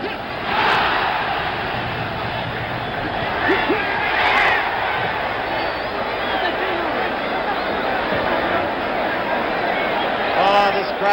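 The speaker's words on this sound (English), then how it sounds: "Crowd roars again as Young continues, unafraid," A large boxing crowd roars continuously at a heavyweight fight between Jimmy Young and George Foreman, loud and sustained with swelling cheers and yells, with excited commentary running over it.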